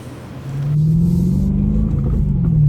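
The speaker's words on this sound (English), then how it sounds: "I'm just going through the gears, seeing how everything's feeling, giving it some partial throttle loads and some full throttle loads." A BMW E92 M3 with a fresh Dinan flash tune pulls hard on a test drive, its engine note rising steadily and loudly as it accelerates through the gears, close and continuous with no talking.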